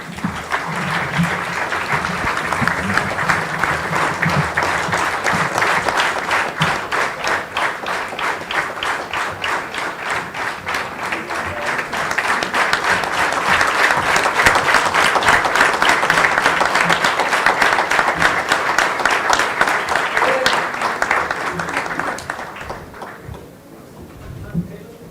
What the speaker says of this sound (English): This must be accompanied by a huge round of applause